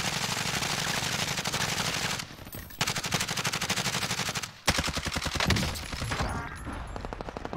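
Rapid automatic gunfire in a Warzone firefight, loud and dense bursts rattling almost continuously with a couple of brief pauses between volleys.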